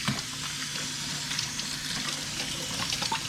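Kitchen tap running as celery sticks are rinsed for a pot roast, a steady faint splashing hiss of water with small irregular spatters, no talking.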